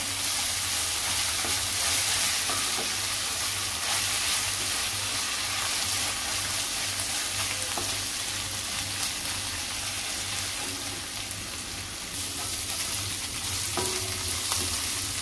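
Onion is sautéed with ginger-garlic paste in a pan for soya chunks masala, a dense, even sizzle running throughout with occasional faint stirring clicks, close and without talk.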